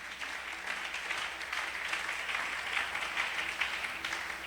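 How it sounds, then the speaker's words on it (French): A church congregation bursts into sustained applause and cheering in praise of the Lord, a dense, steady roar of clapping filling the hall without pause. "Est-ce qu'on peut acclamer pour le Seigneur?"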